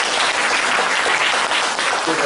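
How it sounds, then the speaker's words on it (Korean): Loud, dense applause fills a hall for the full stretch from an audience at a reading concert talk, a thick continuous wash of many hands clapping together. "이 박수 한번 쳐주시면"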